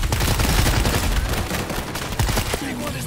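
Sustained gunfire from several weapons in the co-op shooter World War Z, during a fight in Moscow or Tokyo, loud and continuous rapid shots layered with dense battle noise throughout.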